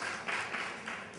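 Audience at a keynote address by a senator at a symposium, applauding in a soft, steady patter of many hands that sounds faint and slightly distant, with no voices.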